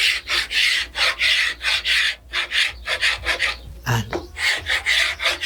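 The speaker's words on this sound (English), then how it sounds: "just an ordinary paint scraper" An ordinary paint scraper is pushed along painted and varnished wood in short repeated strokes, each a rough scratchy rasp followed by a brief pause, close and clear, with a lone word spoken partway through.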